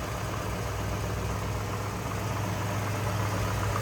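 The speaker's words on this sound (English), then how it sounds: "Good sounding 283 V8" A 283 V8 engine in a 1956 Chevrolet 150 sedan idles steadily with a deep, low rumble and constant mechanical hum, heard close up with no pauses.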